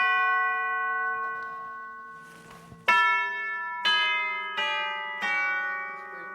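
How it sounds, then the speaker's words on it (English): Chimes of an outdoor pipe organ, struck tubular bell tones ringing out one after another, four clear strikes in a row, each decaying slowly after a softer sustained tone, with no talk. "And then immediately on your right are chimes."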